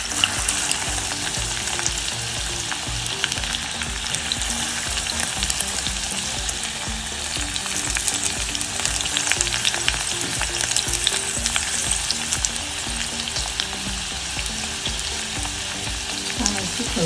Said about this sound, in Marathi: तोपर्यंत आपण भेंडी फ्राय करून घेणार आहोत। तर मी तेल टाकते।